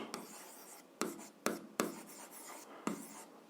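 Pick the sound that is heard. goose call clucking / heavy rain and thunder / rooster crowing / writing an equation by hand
writing an equation by hand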